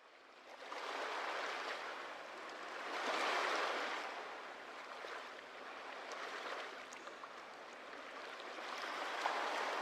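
Ocean waves from a sound-effects library, a steady wash of surf that swells and recedes in slow surges, with no voices.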